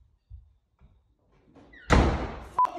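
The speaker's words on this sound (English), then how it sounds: "Slam your parents' door and see how they react" A bedroom door slams shut with a loud close bang after a few quiet thumps, followed by a short sharp knock as it settles.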